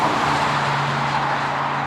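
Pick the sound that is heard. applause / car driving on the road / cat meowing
car driving on the road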